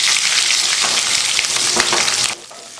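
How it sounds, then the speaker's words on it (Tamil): Mustard seeds, urad dal, curry leaves, onion and green chilli frying in two spoons of hot coconut oil for beans kootu, a loud close sizzle with stirring that drops away abruptly near the end. "2 ஸ்பூன் தேங்காய் எண்ணெய் ஊற்றிருக்கேன். காஞ்சிச்சு. அதில் கடுகு, உளுந்து, கருவேப்பிலை, வெங்காயம், பச்சை மிளகாய்"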